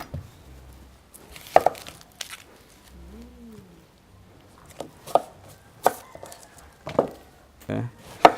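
A knife chops an onion on a cutting board, giving sharp, separate knocks at irregular intervals against a quiet kitchen background, with occasional faint handling noises.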